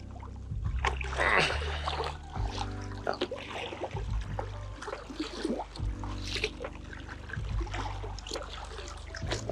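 A paddle sweeps through the water beside an iRocker stand-up paddleboard, giving soft repeated swishes, trickles and splashes over a steady outdoor rumble, moderately close with no talking.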